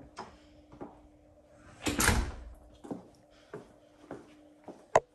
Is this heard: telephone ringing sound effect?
no